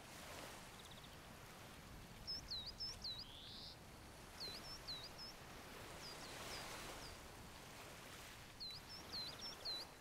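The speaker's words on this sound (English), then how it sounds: "Ooh, the sound the bird makes is really," A game bird in Alba repeats short, high, sweeping chirps in small clusters, fairly faint, over a steady hiss of water or wind, with no voices.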